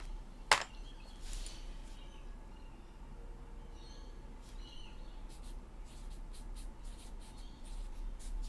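Someone handwriting a name makes faint, brief scratchy strokes close by over a steady low hum, with a sharp tap near the start.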